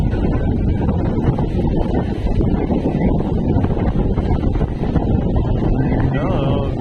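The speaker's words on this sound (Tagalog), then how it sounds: "grabing saboy ng alon" Heavy, continuous wash of water and wind noise on open sea, with waves crashing and spraying against a boat, loud and close.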